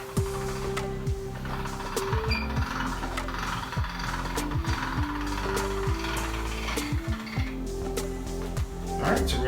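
Pasta dough rolls through a hand-cranked pasta machine, giving a rhythmic, repeated creaking and ratcheting grind of the rollers with soft knocks, while people talk quietly underneath.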